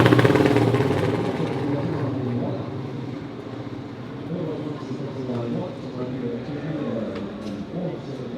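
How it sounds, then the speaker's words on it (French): Faltering endurance-racing motorcycle engine sputters and idles unevenly, its mid-range drone fading in and out amid crowd and pit noise at a racetrack. "la moto ne démarre plus. En fait elle démarre, elle se coupe, elle démarre, elle se coupe"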